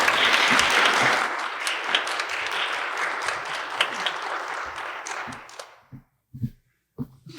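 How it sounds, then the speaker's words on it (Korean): A church congregation applauds to welcome a guest pastor, a dense, loud wave of clapping that slowly thins out into a few scattered claps and quiet thuds. "큰 감사의 박수로 환영하도록 하겠습니다"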